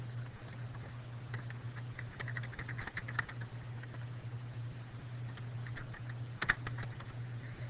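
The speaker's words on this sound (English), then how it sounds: "I'm now going to type in my exact answers in order to get through." Quiet tapping on a computer keyboard as answers are entered, irregular clusters of soft keystrokes with brief pauses over a steady low electrical hum, no voices.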